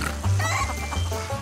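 Several chickens cluck and croak close by in a few short bursts, loud and alone, with no talking.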